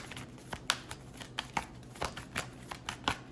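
Tarot cards are shuffled in quick, irregular riffling flicks, close and fairly quiet, with no talk.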